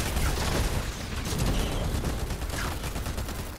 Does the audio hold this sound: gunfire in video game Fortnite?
yes